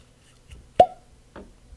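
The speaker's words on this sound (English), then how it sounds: "Pause for cork pop." A sharp synthetic cork pops out of a Maker's Mark 46 bourbon bottle, one crisp close plop, followed a moment later by a softer secondary knock, in an otherwise quiet room.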